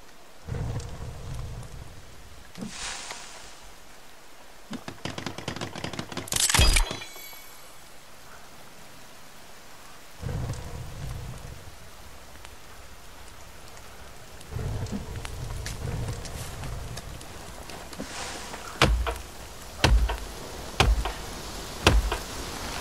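Rain pouring and rolling thunder inside the survival game The Forest, a steady wash of rainfall broken by several loud thunder cracks and rumbles, with short quieter gaps between bursts.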